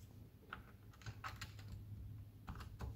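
Soft, muted keystrokes on a Ducky One 2 Mini keyboard with Cherry MX Silent Red switches, typed in short irregular bursts, quiet and close, with no voices.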